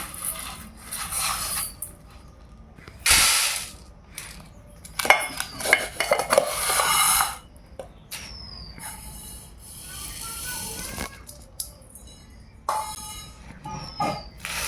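Dry wheat grains are scooped and poured with a bowl in a kitchen, producing bursts of rattling, hissing grain pours and clinks of the bowl, separated by short pauses, close and fairly loud.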